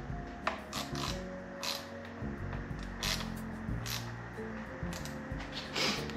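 Screws are tightened on an adjustable handlebar extension tube of a Himiway e-bike, giving quiet, intermittent ratcheting clicks and scraping metal turns in short bursts, close and faint, with no speech.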